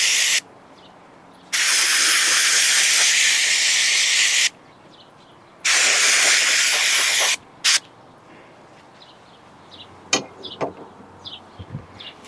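Cleaner sprayed onto a CFMOTO air filter in two long, loud hissing bursts and a short third one, followed by faint handling noises.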